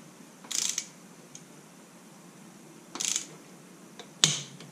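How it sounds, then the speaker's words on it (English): Torque wrench tightening caliper bracket bolts on a 1983 Honda Shadow 750, three short ratcheting clicks spaced apart, the last ending in a sharper snap, close and fairly faint against a quiet background. "Torquing the caliper bracket bolts, 25 foot-pounds."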